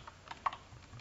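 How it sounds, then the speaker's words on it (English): Computer keyboard keys are pressed a few times in quick succession, soft clicks with one sharper tap in the middle, faint against a quiet background hiss. "just hit backspace on your keyboard so that they can be blank or empty"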